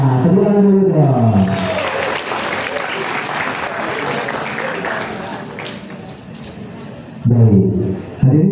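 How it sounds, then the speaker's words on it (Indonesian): Audience applause fills about five seconds at a high school group's campus visit to Universitas Padjadjaran in Bandung. A steady crowd clap rises after someone speaks and fades as he resumes talking. "Tepuk tangan dulu dong."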